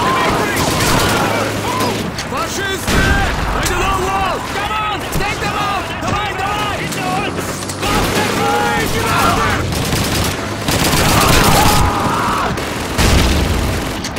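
Gunfire in Call of Duty 2 at Stalingrad 1943, with repeated rifle and machine gun bursts and booms crackling densely through the clip while someone talks over them.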